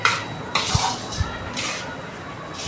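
Fried cashew and almond pieces are mixed in a metal pan, producing a few sharp scraping clinks of a spoon against the pan amid light rustling, close and clear with no talking.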